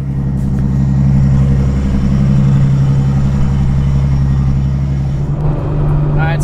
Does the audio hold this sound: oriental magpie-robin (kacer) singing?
no